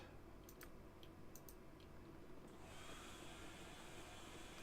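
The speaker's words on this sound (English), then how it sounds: "So you can hear a hairdryer in the background." A hair dryer running in another room, a faint steady airy whir that swells louder partway through, with a few light ticks and taps up front and no speech.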